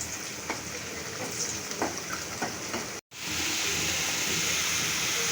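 Rui fish with kalonji sizzling and sautéing in hot oil, a steady bright crackle with a few stirring scrapes, briefly cut off then resuming louder and hissier.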